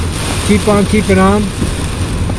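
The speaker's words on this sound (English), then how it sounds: "It's torrential rain just while I'm doing this and driving." Steady heavy rain hisses throughout, with someone talking briefly over it in the middle.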